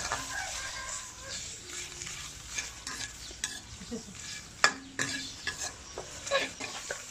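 Tomatoes being stir-fried in a pan for Thai fermented fish dip (pla ra bong), with a steady soft sizzle and repeated scraping stir strokes, a few sharper clacks of the utensil against the pan.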